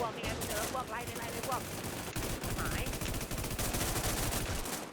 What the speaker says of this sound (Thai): เสียงปืนโคตรแสบเลย